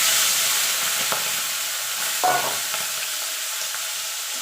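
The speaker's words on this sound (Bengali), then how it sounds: "চিংড়ি মাছটা হালকা করে ভেজে নেব" Shrimp fry in hot mustard oil with a steady, close, bright sizzle, broken by a few soft clicks of stirring and one louder burst of spitting oil near the middle. No voices are heard.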